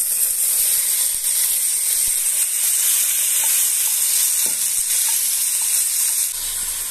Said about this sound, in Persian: گوشت رو منتقل میکنم به قابلمه که داغ شد